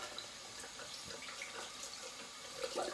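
Steady broadband rush of tap water running over a paint brush being rinsed at a sink, continuous and fairly close, with a slight swell of splashing near the end.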